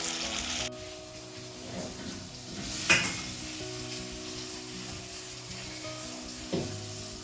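Squash soup with added spices sizzles and fries steadily in a pot, a close, continuous hiss broken by a couple of brief clinks and stirring scrapes.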